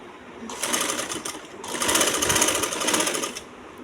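A sewing machine stitches a round neckline in two loud bursts of rapid, buzzing running stitches, separated by a short pause, close up and with no talk.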